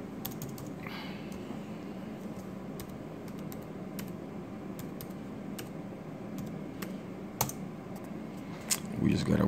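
Keys tapped on an HP Probook 6560b laptop keyboard while entering a password, a steady run of light clicks under a low hum, with a louder clack near the end.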